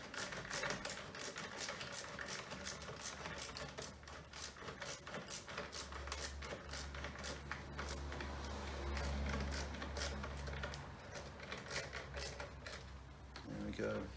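A screw is driven through aluminium trim and metalwork into a nut on a Porsche Panamera 970 rear door B pillar, making rapid, close mechanical ticking and clicking with a low motor drone, while someone talks.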